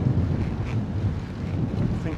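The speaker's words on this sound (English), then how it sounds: "It's been breezy today," Steady wind buffeting a microphone on a breezy day with a headwind during a group bike ride, a constant low roar with no pauses, loud and close throughout.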